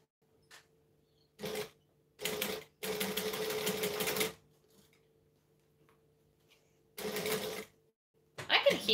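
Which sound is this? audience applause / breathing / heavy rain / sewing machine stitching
sewing machine stitching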